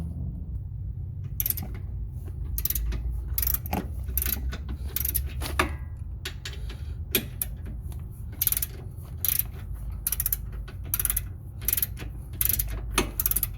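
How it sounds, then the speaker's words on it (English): A ratchet with a 15 mm socket loosens a control arm bolt on a Chevy HHR, clicking in quick repeated bursts of pawl ticks over a low steady background hum, close and clear. "and 15 millimeter socket, and I will start to unscrew right there."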